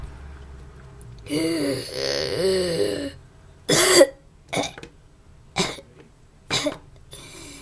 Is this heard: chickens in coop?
no